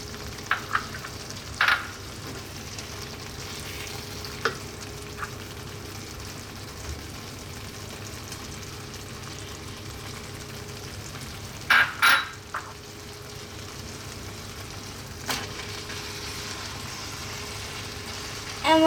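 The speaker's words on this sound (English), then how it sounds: "And we're gonna stir it for 3 minutes." Pasta with Parmesan being stirred in a mushroom cream sauce, a soft steady bubbling hiss with occasional spoon knocks and scrapes against the pan, close and low, no voices.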